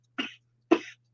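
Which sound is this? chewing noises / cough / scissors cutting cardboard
cough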